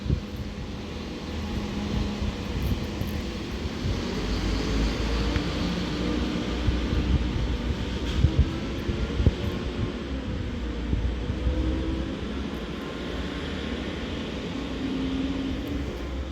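Class 197 Transport for Wales diesel train pulling out of Runcorn station on the West Coast Main Line, a steady low engine rumble and drone lasting throughout, moderately loud with no talk.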